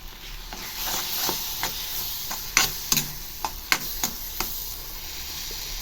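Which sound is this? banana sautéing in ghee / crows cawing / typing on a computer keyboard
banana sautéing in ghee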